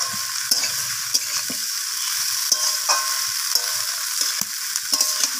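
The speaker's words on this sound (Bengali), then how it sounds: "তো এরপর আমি পালং শাকের ডাঁটাগুলোকেও আলু আর মূলোর সাথে এইভাবে নাড়াচাড়া করে নিচ্ছি।" Spinach stems, potato and radish are stir-fried in a sizzling pan, with a constant hiss punctuated by repeated clacking scrapes of a spatula at an irregular rhythm, close by.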